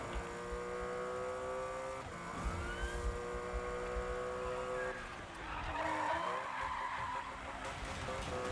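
Tyres squeal and skid continuously as a car drifts through turns in Need for Speed 2015, the drawn-out screeching pitch sliding up and down over a steady engine drone.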